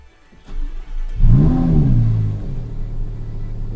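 A 2022 Lamborghini Huracan Evo RWD fires up from its start button with a loud cranking catch and rising rev flare, then settles into a deep, steady idle rumble, close and alone without talk.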